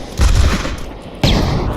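Two grenade blasts in Pavlov, a tactical shooter match, boom out loud and close, one at the start and another about a second later, each with a rumbling low-end tail.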